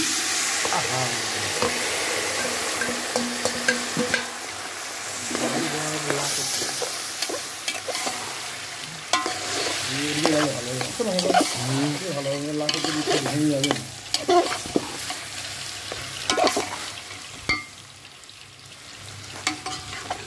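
Vegetables sizzle in hot oil while a utensil stirs and scrapes them around the pan. The frying hiss is steady, broken by repeated stirring clatter and brief louder bursts, with occasional faint voices in the background.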